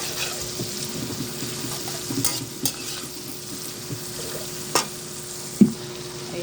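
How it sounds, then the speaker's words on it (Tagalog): Tomato, onion and garlic sautéing in a home-kitchen pan give a constant sizzle and hiss punctuated by several spoon taps and scrapes against the pan, close and fairly loud. "ayan malapit na maluto yung ating kamatis sibuyas. Igisa-gisa lang natin."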